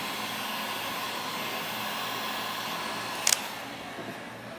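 Heat gun blowing hot air onto vinyl wrap film on the trunk of a Hyundai Elantra N, a steady close hiss with a brief click partway through.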